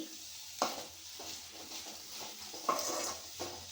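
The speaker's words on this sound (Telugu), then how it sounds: "మెంతం కూర ఇలా డీప్గా ఫ్రై కావాలండి." Fenugreek leaves deep-fry in a pan over a low flame, a soft, faint sizzle broken by a couple of sharper scrapes of stirring, with no talking.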